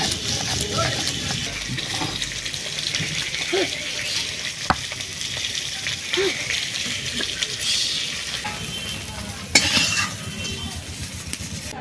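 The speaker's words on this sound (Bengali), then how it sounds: "মাছগুলো সব ভাজা হয়ে গেছে।" Tilapia and rohu fish frying in hot oil give a steady, close sizzle across the whole stretch, with a few sharp utensil clicks and scrapes breaking through now and then.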